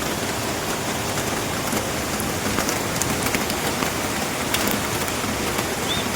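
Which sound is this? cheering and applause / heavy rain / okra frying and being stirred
heavy rain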